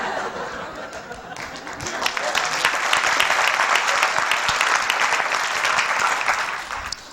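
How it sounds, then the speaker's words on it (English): Applause at a stand-up comedy show, starting thin and quickly swelling into a full, steady round of clapping from the crowd, with some scattered chuckling mixed in. "I don't want your pity claps."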